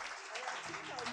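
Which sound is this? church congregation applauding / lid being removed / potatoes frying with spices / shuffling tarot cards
church congregation applauding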